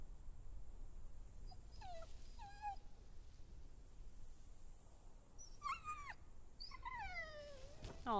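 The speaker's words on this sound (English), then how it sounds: "Aw, poor dog" Dog whimpering in a video game, a few soft high whines and yelps in separate bursts over a quiet, steady ambient background, with no talking.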